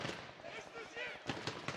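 Quick sprays of automatic gunfire crackle through a PUBG Mobile championship match, arriving in short close bursts with a commentator's voice running over them.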